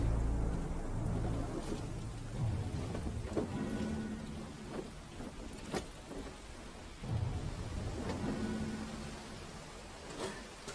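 Heavy thunderstorm from the video game The Sinking City, with steady rain hissing on surfaces and several sharp thunder cracks and low rumbles spread across the stretch, no voices.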